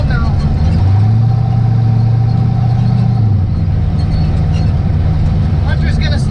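A twin-turbo Gen3 small-block Fox Body car drives along, its engine giving a loud, deep, steady drone with a sustained low tone that drops slightly as speed changes, heard from close by.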